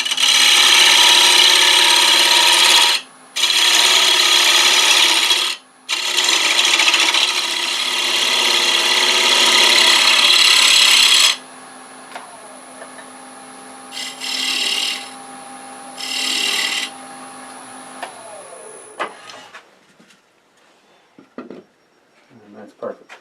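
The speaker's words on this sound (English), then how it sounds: "so we're going to use a bowl gouge." A bowl gouge cuts a construction 2x4 spinning on a wood lathe, giving loud, rough scraping bursts broken by short pauses, then a quieter motor whine and light tool contact as cutting stops.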